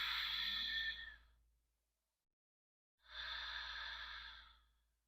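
Two long, deep breaths during a yoga flow, each a broad airy rush about a second long, separated by a stretch of near silence, close and fairly quiet.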